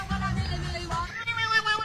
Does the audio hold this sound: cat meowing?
yes